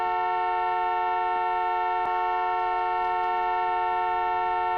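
A car horn gives one long, steady, tonal blare that holds at even loudness across the whole stretch, with a sharp click partway through.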